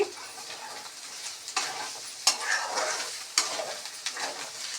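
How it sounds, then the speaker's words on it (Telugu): A spoon stirs bitter gourd curry with tomato paste in a hot pan, producing a soft sizzle with periodic louder scraping strokes and bursts of frying, close up and without voices. "ఇలా బాగా కలుపుకున్నాం"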